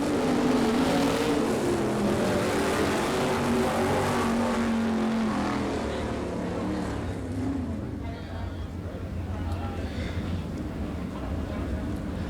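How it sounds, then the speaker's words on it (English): Late model race cars on a dirt track coming out of turn four at the end of a heat race, a loud continuous engine roar that slowly eases, with an announcer talking over it. "And coming out of turn 4, winner of heat race number 4, Kurt Davis."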